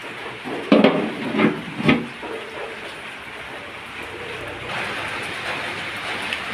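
Rain falls around a house, a steady, soft hiss of drops on surfaces nearby, with a few louder knocks and thumps early on before the downpour settles into an even wash.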